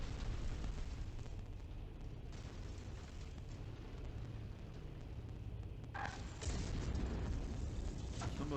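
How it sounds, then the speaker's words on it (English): In the MechWarrior 5: Mercenaries video game, a dense rumble of battle noise fills the clip, with heavy booming explosions and gunfire that swell louder near the end. "Somebody's shooting?"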